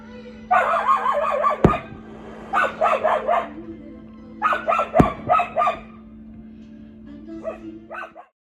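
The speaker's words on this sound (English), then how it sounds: "With a loudmouth dog." A small-town dog barks in several short clusters of sharp, yappy barks on a Saturday night, close and loud, with pauses between bursts and two sharp clicks.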